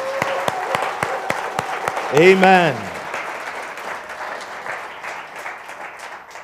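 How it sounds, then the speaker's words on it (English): A church congregation claps loudly for Jesus at a Good Friday service, with rhythmic hand claps in the first couple of seconds over steady crowd clapping, a voice speaking over it and a brief sung tone midway. "Come on, give him a loud clap offering."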